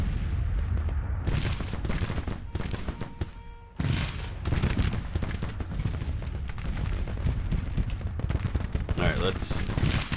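Gatling guns and massed rifle fire in the Grand Tactician Civil War strategy game, a dense continuous crackle of gunfire with bursts and booms throughout a battle, loud and steady with a brief lull near the middle.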